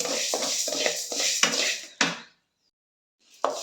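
Horse gram dry-roasting in a pan over a medium flame while being stirred: a quick run of rhythmic scraping and rattling strokes close by, then a pause of silence and one more stroke.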